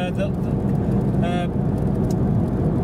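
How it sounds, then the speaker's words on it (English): Cars drive along Eccles Old Road near a junction, with traffic coming up from a side road, giving a steady, fairly loud road rumble and a brief voice midway. "So where these cars are coming up now, are coming up from Lambethy Road."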